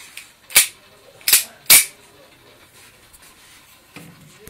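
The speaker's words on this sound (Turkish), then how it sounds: "bir deneme daha tabancamızla yapıyoruz" Three sharp, loud gunshots from a Tarık 9mm pistol fired in test shooting, spaced about half a second apart, followed by quiet and faint handling noise.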